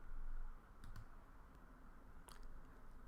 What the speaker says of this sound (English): So we're going to click on buy.